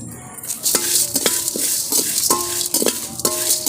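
Dry spices, including toor dal, chana dal, coriander seeds, dried red chillies, cumin, fenugreek, garlic and curry leaves, are roasted in a pan, with a soft rustling sizzle and repeated sharp metal clinks from stirring close by.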